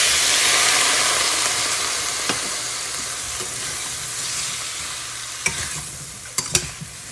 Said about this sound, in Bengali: সব সবজিগুলো ভাজা ভাজা হয়ে গেছে, এবার এর মধ্যে দিয়ে দেব সর্ষে আর পোস্ত পাতা।